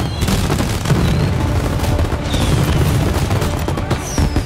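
Gunfire from Mafia Definitive Edition keeps up throughout, a dense barrage of shots and booms layered into a loud, continuous roar with no gaps.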